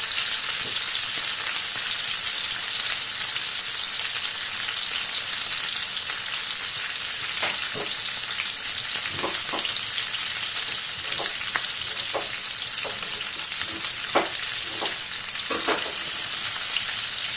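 Onions and ginger frying in a pan make a continuous loud sizzle. Scattered spatula scrapes and stirring knocks punctuate it, close up, with no talk.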